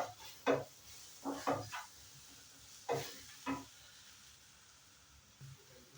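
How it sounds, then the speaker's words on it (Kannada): Masala for a tuna fish dish fries in a pan under a soft steady sizzle, broken by several scraping clatters of stirring spaced irregularly, close by and with no talk. "1 ರಿಂದ 2 ನಿಮಿಷ ಸ್ವಲ್ಪ ಮಸಾಲವನ್ನು ಹುರಿಲಿಕ್ಕೆ ಬಿಡಬೇಕು"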